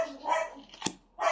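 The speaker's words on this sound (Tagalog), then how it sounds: "pasensya na sa aso namin" A household dog barks once sharply near the middle, close by, with a person talking before and after.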